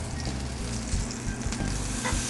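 Duck, skin side down, sizzles loudly in a very hot sauté pan as its fat renders, a dense, continuous hiss with a few faint knocks.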